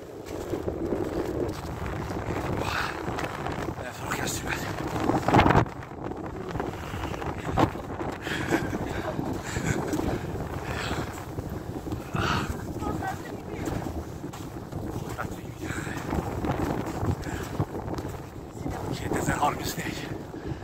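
Strong wind gusts roar across the microphone in cold, snowy mountains during extreme frost, a steady loud rush with stronger bursts and voices at times.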